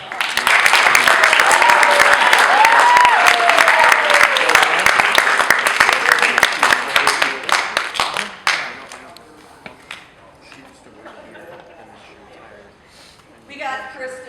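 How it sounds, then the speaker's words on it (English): Dense, loud applause from an audience at a theatre troupe induction ceremony fills the first eight seconds, then fades into quieter room noise with a few scattered sounds and faint voices. "So we can give them a round of applause"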